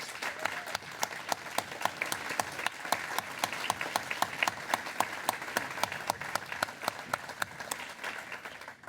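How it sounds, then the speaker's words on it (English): Sustained applause at a city State of the City address, heard at a moderate distance, with crisp individual claps standing out in a steady stream across the whole stretch. "please give him a round of applause"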